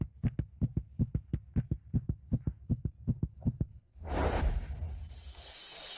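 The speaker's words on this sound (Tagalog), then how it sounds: "Ang bilis ng tibok ng puso ko." A fast heartbeat sound effect in a drama pulses in a steady, rapid thump-thump rhythm, loud and close, then gives way to a broad whooshing rush.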